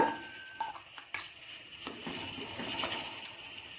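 A chickpea, pea and potato curry is spooned from one cooking pot into another, with scattered metal clinks and scrapes of a spoon against the pot and soft wet stirring sounds.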